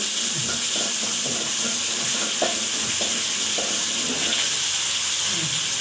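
Chicken frying in a pan at home, giving a steady, loud sizzle and hiss throughout, with occasional soft stirring clatter and faint background voices now and then.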